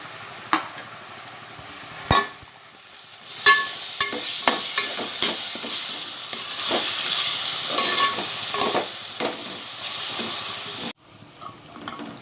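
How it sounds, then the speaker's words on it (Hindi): Chopped tomatoes frying with golden onions in a pan for mutton masala, a continuous close sizzle with crackling and occasional stirring scrapes and knocks, ending abruptly in a quieter hiss, no talking. "अब मैं इसमें टमाटर डालूंगी और इसे अच्छे पकने तक मैं इसे प्याज में तलूंगी।"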